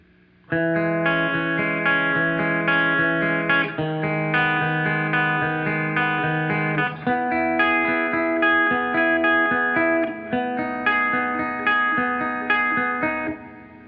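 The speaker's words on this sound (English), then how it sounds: "This is the noise of my guitar into the amp." Electric guitar played through an amplifier with a Catalinbread Belle Epoch Deluxe echo pedal, loud sustained chords changing every few seconds with a droning, slightly distorted tone and echo tails, no talking.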